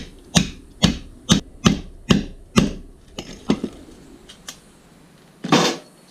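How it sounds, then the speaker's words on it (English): A hatchet strikes aluminum scrap in a quick series of sharp, close chops, about eight blows with short gaps, then a louder scrape near the end. "I just hit this with a hatchet on the two sides, and then I have clean aluminum"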